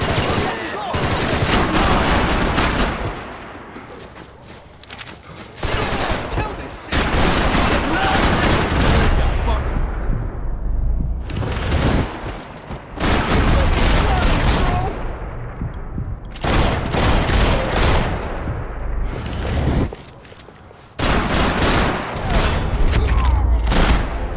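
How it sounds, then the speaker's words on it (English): Bursts of gunfire in Max Payne 3 crackle repeatedly, with rapid volleys and booms that come in waves separated by brief lulls. "Gunfire over Hoboken."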